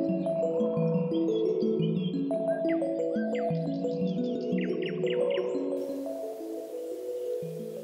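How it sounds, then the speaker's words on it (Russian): A small bird sings in a winter setting at the Gelendzhik seaside, its short rising chirps and trills rising over a steady, fairly loud background of music or other tonal sound. "Птичка. Интересно поет."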